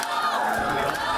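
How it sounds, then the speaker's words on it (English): A big stadium crowd cheers and roars at the Sochi Winter Olympics opening ceremony as Canada's team walks in, a dense, sustained wash of distant voices. "there was a huge cheer when Canada's team walked into the stadium."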